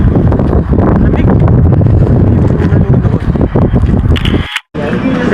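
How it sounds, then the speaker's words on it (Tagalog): Strong wind buffets the microphone outdoors on a cold, breezy day, a loud continuous rumbling roar that cuts out briefly near the end. "Malamig ngayon kasi mahangin."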